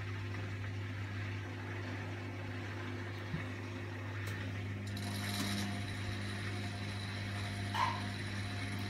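A Hotpoint Ultima Extra WMA64S washing machine spins on a darks cycle, a steady low motor hum with faint whirring and occasional light clicks and rattles, heard close and alone.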